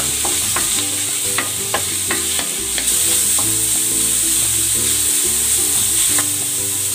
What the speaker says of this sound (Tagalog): Igigisa ko na tong sahog. Ito ay lomo. Pork lomo ang ginamit ko.